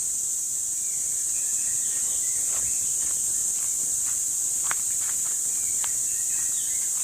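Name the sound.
crickets chirping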